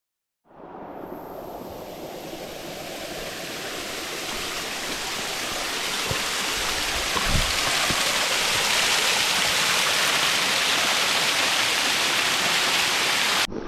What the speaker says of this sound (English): Tried to take a close up of the waterfall and almost bloody fell in.